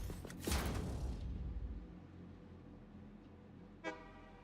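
A train horn sounds in the factory-building video game Satisfactory, a loud blaring honk in the first couple of seconds that fades, then a short second toot near the end.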